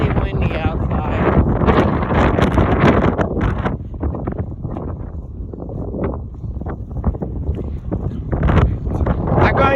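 Strong wind on a gusty day in southern Kansas roars and buffets the microphone outdoors, loud and continuous, with a person talking underneath.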